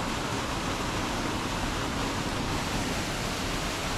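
Steady, dense rush of a Hokkaido mountain-stream waterfall, broadband and unbroken, close by with no other sounds over it.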